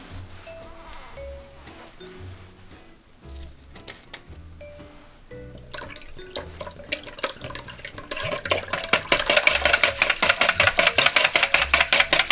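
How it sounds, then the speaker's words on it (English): Tamarind juice is poured into a sweetened homemade tamarind drink. Quiet clinks and small sounds come first, then the pour builds into a loud, splashing stream over the last few seconds. "Then we're going to add our tamarind juice to that."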